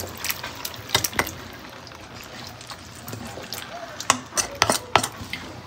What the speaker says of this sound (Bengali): এখন আমি বিরিয়ানির মাংসটাকে দিয়ে ভালোভাবে মিক্স করে দেব।